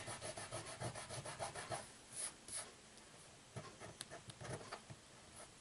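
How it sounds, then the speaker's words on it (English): Fingers rubbing tape residue off paper on a handmade card, soft rhythmic scrubbing strokes in quick bursts with short pauses, faint and close. "I'm rubbing all of this off because I don't want it to be super bulky on one side by just putting tape over it."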